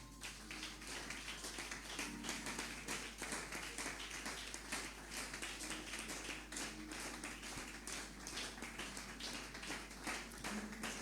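A church congregation claps together in praise of the Lord, a dense and continuous patter of hands that is steady and fairly loud throughout, with no talk over it.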